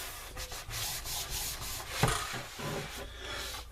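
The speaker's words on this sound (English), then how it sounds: "And we'll rub this edge down." An edge is rubbed down during front end repair on a Cajun Commander boat, a continuous close-up sanding or rubbing scrape with rhythmic strokes and a brief knock midway.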